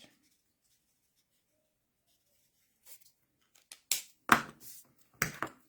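A fine-tip pen colours foliage on a stamped pull-tab card, giving a few short, soft scratchy strokes after near silence, each a quiet rasp close by.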